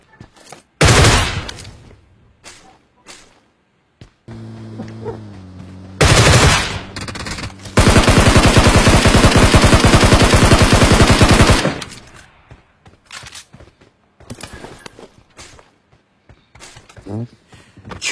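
Gunfire in a PUBG match: bursts of shots around 1 s and 6 s, then a long, loud, steady stream of rapid automatic fire from about 8 to 12 s. A low droning hum runs between the bursts, and scattered faint shots follow.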